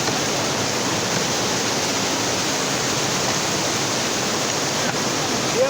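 Floodwater rushes past in a continuous, steady roar of broadband noise, loud and close, with no breaks and no clear voices over it.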